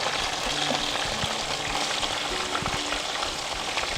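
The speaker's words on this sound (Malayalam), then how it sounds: "ചിക്കനെല്ലാം നമുക്കൊന്ന് ഇളക്കിയെടുക്കാം." Chicken 65 frying in hot oil in a pan, a dense continuous sizzle close up, with faint clinks and scrapes from stirring underneath, no speech.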